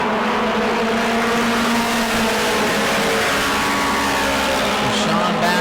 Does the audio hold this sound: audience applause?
no